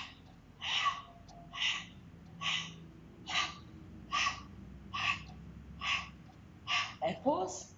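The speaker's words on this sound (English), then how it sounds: "So deep breath in." Deep rhythmic breaths during a Pilates exercise, about nine evenly spaced airy exhales close to the mic, each swelling and fading, with a brief voiced sound at the end.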